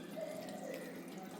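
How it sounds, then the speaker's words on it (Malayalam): Water is poured into a pot of colocasia curry pieces, making a brief, soft, steady trickle that lasts about a second and a half. "കറിയുടെ കഷ്ണത്തിൻ്റെ ഒപ്പാണ് ഞാനിവിടെ വെള്ളം ഒഴിച്ച് കൊടുക്കുന്നത്"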